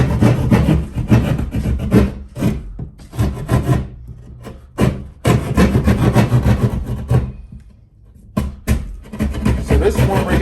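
Drywall being cut out by hand for an electrical outlet box, a rough scraping, rasping saw sound in repeated strokes, close and loud, with brief pauses between bursts.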